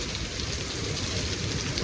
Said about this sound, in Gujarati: હવે તો જાય ફૂલ વરસાદ આવે છે ને